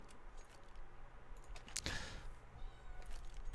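A female cat meows once, briefly and fairly near, against steady low background noise in a home setting during a livestreamed Counter-Strike match commentary.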